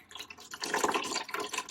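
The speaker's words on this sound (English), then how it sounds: "I will very carefully empty off the top of the water" Water pours off the top of a bucket of clay sludge in a ceramics studio, a close, burbling splash that swells and gurgles unevenly, with no voices.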